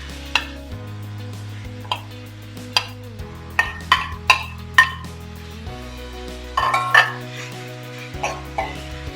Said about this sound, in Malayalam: ഇത് നന്നായിട്ട് ഇങ്ങനെ ഇളക്കി ചേർക്കുക